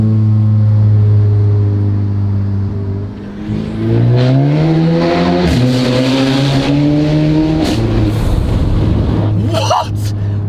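A Volkswagen Scirocco with a Cobra Sport exhaust and sports cat revs hard in a tunnel, the engine note climbing loudly through gears with echoing reverberation, then a brief crackle as people react.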